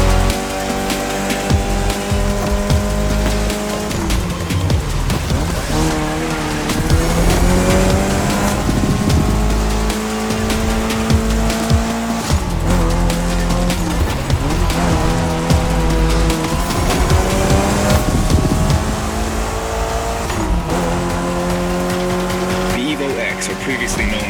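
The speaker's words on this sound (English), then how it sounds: "especially your new ride, Toji's Mitsubishi Lancer Evo X" A Mitsubishi Lancer Evo X races in The Crew Motorfest video game, its engine revving and shifting through gears with repeated tire squeals. A voice talks over the loud car noise the whole time.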